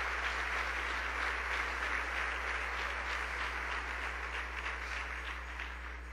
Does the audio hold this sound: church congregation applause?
yes